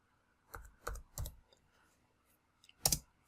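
A handful of crisp keystrokes tap out a product code on a computer keyboard, with three quick clicks, a pause, then a final louder key press, all close and clear without any voice.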